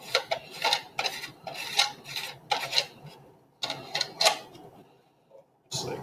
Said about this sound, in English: Long metal rod here, which I'll go ahead and just take and screw